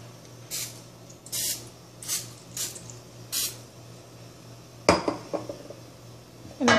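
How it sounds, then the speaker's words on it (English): Non-stick cooking spray coating a cake baking pan for a beginner's cake, heard as several short spray bursts followed by clinks and rattles of the metal pan, close by with no talking. "with which you'll be able to coat the baking pan"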